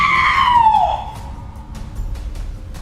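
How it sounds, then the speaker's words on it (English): A loud, anguished scream from a performer in a staged reading, rising high and harsh for about a second before cutting off, followed by faint sharp ticks and low rumble. "lets out a loud, anguished scream."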